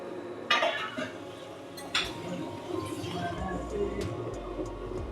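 Fried eggplant pieces being tipped into a pan and stirred, with clinks of a utensil against metal, soft scraping and a faint sizzle close by, while a person talks quietly.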